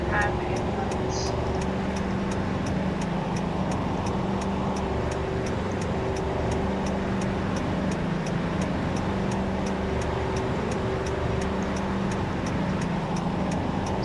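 Car driving at night with its hazard lights on, a steady road and engine rumble with the rapid, regular ticking of the hazard flasher all the way through.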